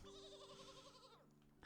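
A sheep bleats once in a video game dance emote, a single wavering close bleat lasting about a second before a short burst of noise.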